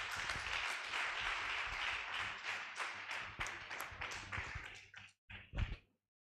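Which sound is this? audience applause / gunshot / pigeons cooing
audience applause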